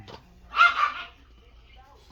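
Dogs barking in a burst of several overlapping barks, moderately close, then fading, followed by quiet room tone.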